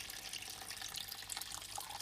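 Water poured from a container into yogurt in a cooking pot, a steady splashing, trickling stream throughout, fairly quiet and close with no talking.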